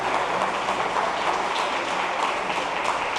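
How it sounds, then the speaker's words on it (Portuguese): Church congregation clapping and applauding together, a steady dense wash of hand claps filling the room without pause, fairly loud and close. "Pode aplaudir Jesus,"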